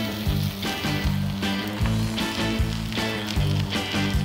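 Rolled shawarma on a grill sizzles steadily, with a recurring pulsing crackle repeating about every half second, loud and close with no voices.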